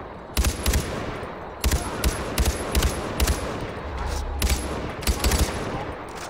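Gunfire from a weapon in the video game Far Cry 4: repeated loud bursts of shots in quick clusters of two or three, spaced across the clip over a steady background din, with no talking.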